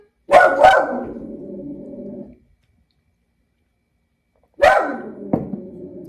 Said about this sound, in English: You'll still hear boofing from Sir Boofs a lot, but you will not hear full barking, hopefully.